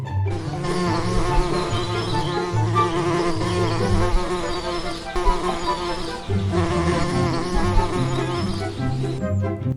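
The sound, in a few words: bees swarming around a parcel of honey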